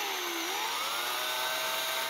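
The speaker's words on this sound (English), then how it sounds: "Now I'm going to use the big bit just to make the hole as big as I need it." A power drill with a large bit bores through a mountain bike frame to enlarge a hole for internal dropper post routing, giving a steady, loud high-pitched whine whose pitch rises slightly as the cut continues, with no talking.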